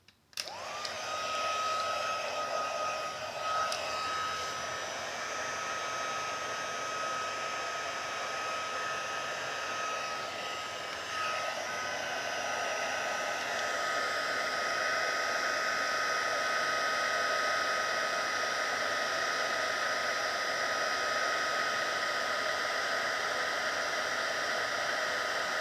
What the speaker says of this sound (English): Get my heat gun.